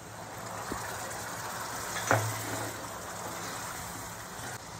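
Water goes into frying masala in a pan for a mushroom curry: a faint, steady sizzle swells into a brief hissing surge as the water hits, then settles back to a low fry.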